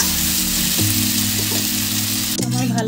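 Bitter gourd and potato frying in a pan for a spicy dish, a loud continuous sizzle close up, with a brief scrape of stirring near the end.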